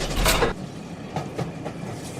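A train rumbles and clatters past in a short sound effect, loud at first with a burst of noise, then fading into softer rhythmic wheel clicks, with no talking.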